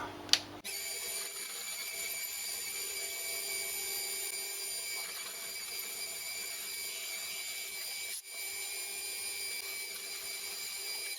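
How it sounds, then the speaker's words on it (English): A drill bores holes in a metal part of a homemade boring head, ready for M5 tapping, as a steady machine whir runs continuously with a sharp click at the start and a brief dip partway through. "So now I'm going to drill them ready for tapping M5."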